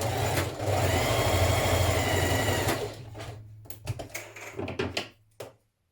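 A sewing machine stitches the back seam of a tunic top, a steady close mechanical whir for about three seconds, then a few short stop-start bursts and handling clicks before falling silent.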